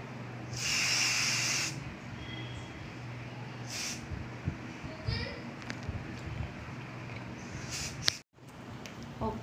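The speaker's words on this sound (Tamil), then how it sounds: "எகெயின் செட்டிங் ஸ்ப்ரே யூஸ் பண்ணிக்கிறேன்" A makeup setting spray gives a loud, hissing burst of about a second, then two shorter, fainter puffs and a final quick spritz. A steady low background hum runs underneath and light handling noise can be heard.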